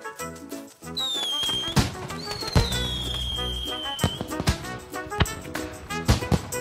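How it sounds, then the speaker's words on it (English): Cartoon fireworks burst over a winter evening celebration: whistling rockets rise with long sliding tones, then a rapid series of loud crackling explosions and thumps fills the scene, with no talking. "You're just in time for the fireworks."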